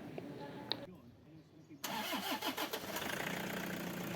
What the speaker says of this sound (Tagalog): I-start ko na itong makina para malaman ko kung aandar pa itong ginawa ko.